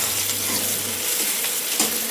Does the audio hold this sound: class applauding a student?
no